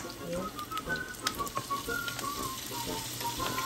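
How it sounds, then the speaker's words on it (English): Pork and bitter melon (ampalaya) stir-fry in a pan with garlic and onion, making a loud, continuous close-up sizzle broken by light scraping and clinking as the mixture is stirred. "Cooking pork ampalaya. So, we need to stir fry that."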